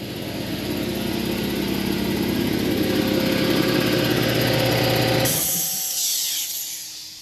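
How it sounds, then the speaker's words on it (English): An air compressor drones loud and steady in a shop during rust repair on a 1970 GTO floor pan, then abruptly cuts off near the end, leaving a quieter hiss. "stupid compressor"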